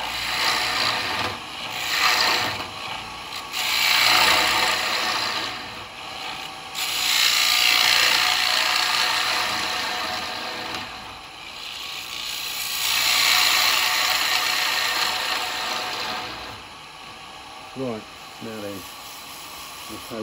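A wood lathe gouge scrapes and rasps against spinning wood in long, rough cutting passes that swell and fade, with a brief voice near the end.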